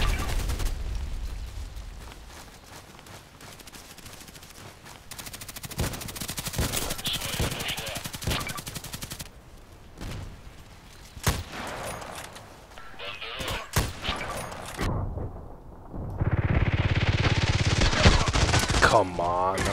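Gunfire in the online shooter Contract Wars, with several bursts of rapid automatic shots and single cracks spread through a busy mix of game sounds and a louder rushing stretch near the end.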